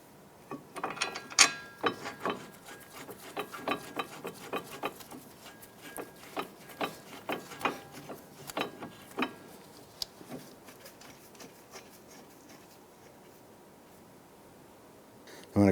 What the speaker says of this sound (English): I'm going to go ahead and torque our caliper bracket bolts to 129 foot-pounds